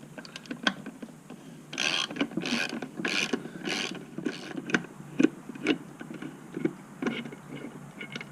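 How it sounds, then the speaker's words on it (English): Ratchet with a 5/16 Allen socket backing out the bolts of a Harley-Davidson motorcycle air cleaner cover, a series of quiet, close metallic clicking bursts in irregular rhythm with no talk. "the first thing we're going to do is take off our air cleaner cover. I've got my 5/16 Allen socket."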